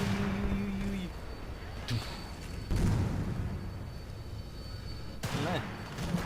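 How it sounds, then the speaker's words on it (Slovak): A grenade blast in the shooter Battlefield Bad Company 2 booms amid ongoing gunfire and loud game noise, with further thuds and crackling afterward. "Hej, granát!"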